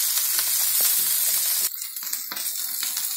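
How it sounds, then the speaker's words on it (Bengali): Potato pieces for jeera aloo fry in hot oil with a loud, steady hiss, then the sizzle drops quieter as a utensil clicks and scrapes through the pan. "আলু লাল লাল করে ভাজা হয়ে গেছে"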